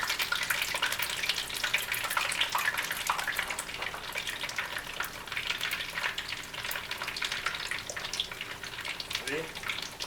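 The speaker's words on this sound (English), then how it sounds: "Now, just put it right in the hot grease." Fried peach pies sizzle in hot grease in a fryer, a steady, dense crackling hiss held close and loud for about ten seconds with no talking.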